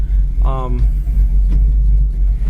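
A 1971 Chevrolet Chevelle engine idles with a deep, steady exhaust rumble throughout, close by, with a brief voice sounding near the start.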